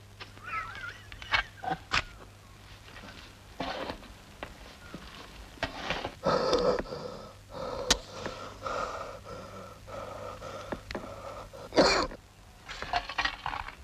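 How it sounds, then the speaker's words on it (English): Several short, rough bursts like coughs from a scene in the 1973 film The Vault of Horror, scattered over a steady low hum, with some faint rustling and a sharper burst near the end. "Did you hear a cough?"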